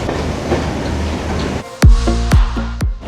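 A train runs along the seaside with steady rumbling, then sharp rhythmic clickety-clack of wheels over rail joints, three loud clacks in quick succession, close and without talk.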